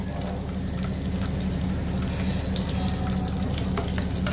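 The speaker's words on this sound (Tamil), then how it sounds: "இது எல்லாத்தையும் கொஞ்சம் லைட்டாக ஃப்ரை பண்ணிவிட்டு" Mustard seeds, cumin, curry leaves and about ten garlic cloves fry in hot oil with a loud, continuous close sizzle and spatter, alone without talk.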